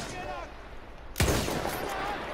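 A single sharp rifle shot in Battlefield 1 gameplay cracks out loudly midway, followed by a ringing tail, with a quieter battle ambience before and after and a voice talking over it.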